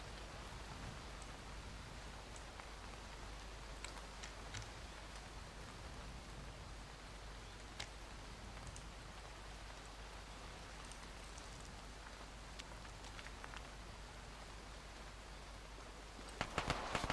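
Steady rain falls in the military video game ArmA 3, a constant faint hiss of drops with a few sharper ticks and a brief louder clatter near the end, no voices.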